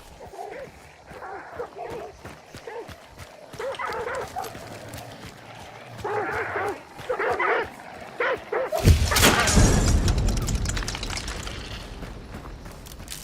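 A dog barks and yips in a video game, sharp bursts repeating in short clusters at moderate distance, before a loud booming blast of gunfire and noise takes over the final seconds.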